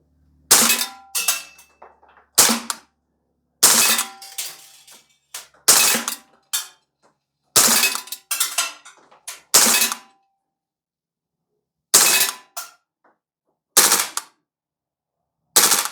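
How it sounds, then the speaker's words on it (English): A Sig Sauer MCX Rattler CO2 BB rifle fires in short two- to three-round bursts outdoors, about nine sharp, loud volleys separated by brief pauses of silence. "So we're gonna go double round, 2 or 3-round burst mode here."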